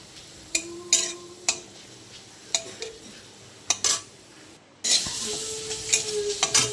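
Whole spices dry-frying in a pan for a spice mix, with repeated sharp scraping and clinks of a spatula stirring, then a louder continuous sizzle near the end; close and alone, no talk.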